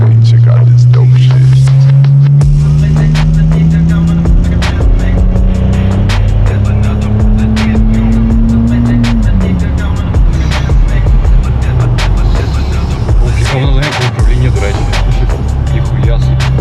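A BMW E60 with an aftermarket exhaust revs hard, its engine note climbing and falling in long sweeps over a constant low rumble, loud and close throughout.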